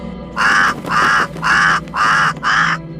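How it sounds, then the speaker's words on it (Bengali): A crow caws loudly five times in a steady rhythm, harsh and close, with brief pauses between calls. "কাকটা এত চিৎকার করছে কেন"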